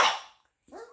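Newfoundland puppies give a sharp, close yelping bark, then after a short silence a softer, higher whimpering yip.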